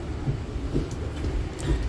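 A train at Zurich main station (Zurich HB) makes a low, steady rumble with faint rhythmic thumps and bumps, heard close up from on board or on the platform, with no talking.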